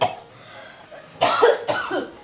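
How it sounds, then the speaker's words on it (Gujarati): A person coughs in a domestic setting, with a faint first cough and then two louder, harsher coughs close together near the end. "બહુ ખાંસી આવે છે"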